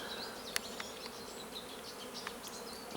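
Honeybees buzz around an open hive on a sunny day during inspection after snow, with several bees passing near in a soft, continuous hum and occasional closer flybys.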